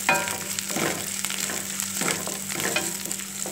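Curry leaves sizzle and crackle in hot oil for cumin rice, a close, steady frying hiss with little spits and stirring scrapes and no talking.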